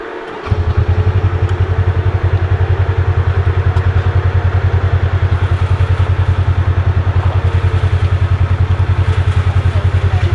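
Motorcycle engine starting up and then idling, a loud close low rhythmic thumping pulse that stays steady and even for the whole stretch after a brief quiet start.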